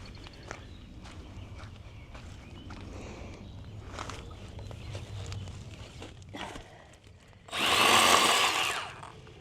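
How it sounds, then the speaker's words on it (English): Chainsaw cutting through a garden harvest, heard as a short, loud burst of buzzing near the end after a stretch of quiet rustling and handling noise. "break out the chainsaw."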